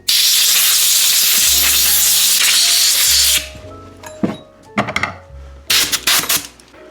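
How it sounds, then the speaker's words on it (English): Compressed air blasts in a loud, steady hiss over bicycle parts for about three seconds, followed by short, sharper puffs and a few handling knocks. "Then, a little compressed air."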